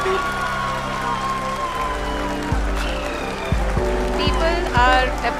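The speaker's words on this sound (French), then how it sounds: "People are applauding." Applause and cheering fill ISRO mission control after the Chandrayaan-3 moon landing, a dense, continuous clapping crowd with voices talking over it and a low rumble underneath.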